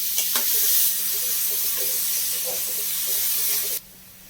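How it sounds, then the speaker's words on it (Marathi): Finely crushed onion and tomato sizzle and hiss steadily in butter on a pan for a grilled pizza sandwich, heard close and continuous before stopping abruptly near the end, with no talking. "आता बटरवरती पहिल्यांदा आपण कांदा आणि टॅमॅटो परतून घेऊया."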